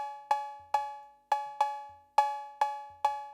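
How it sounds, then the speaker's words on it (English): Roland TR-808 analog drum machine cowbell, a bright metallic two-tone clank struck seven times in an uneven rhythm, clear and isolated with quick decays. "Just two oscillators and a few analog components trying and failing to sound like a cowbell"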